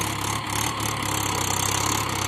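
A Mahindra tractor engine idles steadily nearby, with a continuous low mechanical hum and no voices.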